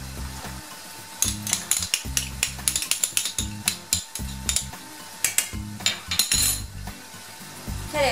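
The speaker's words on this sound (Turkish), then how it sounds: "Tereyağında sıcakken ilave edip hemen patatesleri eziyorum." Hot boiled potatoes being mashed with butter for konak kebab make repeated squelching, clacking strokes in quick rhythmic bursts with short pauses between, close and moderately loud, with no speech.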